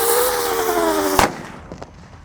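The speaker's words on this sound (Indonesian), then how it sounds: "Selanjutnya yang kita nyalakan di sini ada mercon teratetor." A firecracker (mercon) set off outdoors cracks once as a single sharp, loud bang after a hissing fuse-like whine, then fades into faint background noise with a small distant pop.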